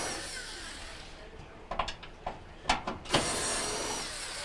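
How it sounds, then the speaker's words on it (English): Screws being removed from a panel of a Kenmore dryer with a power tool, heard as a few short whirring bursts in a row against a steady background hiss. "And we'll remove these bottom screws."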